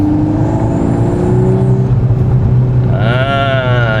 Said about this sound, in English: you got all this turbo noise at your foot now